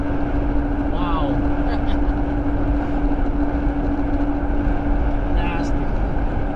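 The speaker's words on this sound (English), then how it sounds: "Visibility is getting down. Blowing snow big time." Strong wind drives blowing snow on a night with falling visibility, a dense, steady roar that fills the whole stretch. A vehicle engine seems to hum beneath it.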